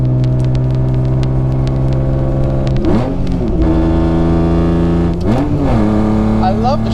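Loud, steady drone of a BMW E36 M3 race car engine through a straight pipe exhaust, heard close from inside the cabin, with revs dipping and climbing twice as it shifts.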